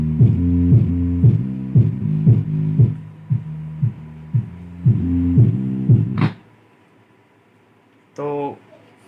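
A repaired Logitech Z5500 subwoofer plays music with deep, rhythmic bass thumps pulsing steadily for about six seconds before cutting out, followed by brief sharp clicks and a short burst of noise.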